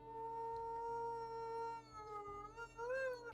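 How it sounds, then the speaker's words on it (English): Wolf howling in the WolfQuest game, a long sustained tonal howl that rises and bends at its end, over a low steady background hum. "Let's go ahead and see if we can't just take this real quick with some howling."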